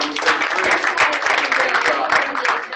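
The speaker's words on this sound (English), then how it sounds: "Teams, let's give them 2 claps" Members of a team at an office meeting clap together, producing a short, dense burst of close applause that runs steadily throughout.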